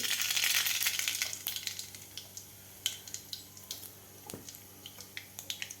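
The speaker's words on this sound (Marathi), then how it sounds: "तेल आपलं गरम झालेलं आहे तर यामध्ये घालायचं आपल्याला अर्धा चमचा मोहरी" Half a spoon of mustard seeds hits hot oil in a kadhai with a loud hissing burst, which quickly fades into scattered, sharp crackling pops heard close up.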